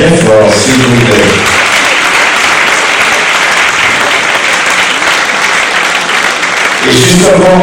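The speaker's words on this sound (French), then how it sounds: "On les applaudit bien fort," Dense, loud applause from an audience at the inauguration of an association, filling the room steadily for several seconds, with a voice talking briefly at the start and again as the clapping stops.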